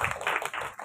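Audience applause at a Hindi literary event, a dense burst of hand clapping filling the short moment at steady loudness with no voices over it.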